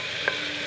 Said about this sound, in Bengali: এবার ডালটাকে একটু ভাজবো।